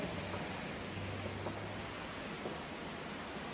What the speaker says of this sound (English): Oh, it's raining now.